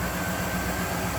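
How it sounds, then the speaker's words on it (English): A 1991 Cadillac Eldorado engine idling smoothly, a steady low hum with an even mechanical drone and no revving, heard up close with the hood open and no talking. "Sounds like a stock, nice running Cadillac."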